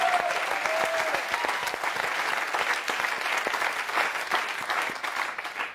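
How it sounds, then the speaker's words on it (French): A studio audience at a French TV entertainment show claps loudly and steadily, a dense, even wash of hands that holds for the whole stretch without letting up. "allez, on l'applaudit très fort."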